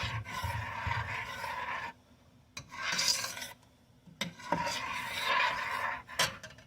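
A spoon scrapes and rasps against a pot while jalapeno pepper jelly is stirred constantly, in loud close bursts broken by short pauses.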